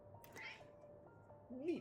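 A cat gives two short meows, one early and a louder one at the end, faint against a quiet room hum, with a person speaking softly in between.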